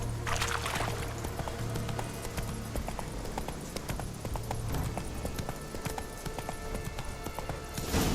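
Roach, the horse in The Witcher 3, gallops with a quick, steady clip-clop of hooves, close and prominent over an ambient game backdrop.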